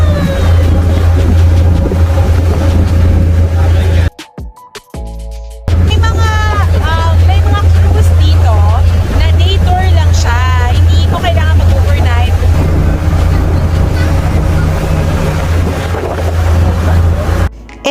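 A tour boat motors across Halong Bay with a steady low engine drone and heavy wind buffeting, loud and constant apart from a brief dropout, with faint voices now and then.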